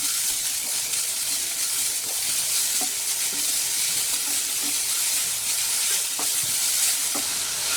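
Grated coconut and sugar cook in a pan over a low flame, giving a steady soft sizzle close by, with occasional light scraping knocks as the mixture is stirred.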